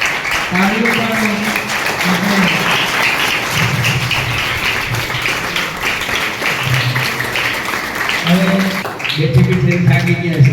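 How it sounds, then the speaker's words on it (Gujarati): An audience at a school World Environment Day event claps steadily to welcome children on stage, a continuous wash of applause with adults talking over it throughout. "તાળીઓ પાડો."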